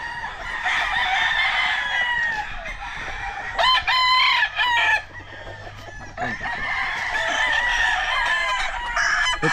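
Battle stag gamefowl roosters crow repeatedly at a farm, one crow after another, loud and close, with clucking and other farm sounds between the crows.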